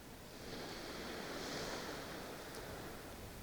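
Irish Sea waves wash faintly against the shore at Llanddwyn Island on a winter night, a soft, continuous distant surf hiss with some wind and no voices.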